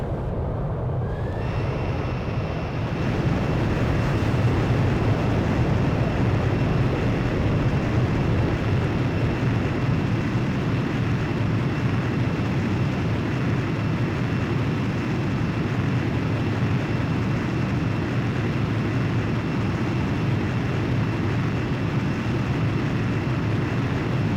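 In the video game Ace Combat 5, a jet fighter launches by catapult from an aircraft carrier, a loud, sustained engine roar that swells quickly at the start and holds steady throughout.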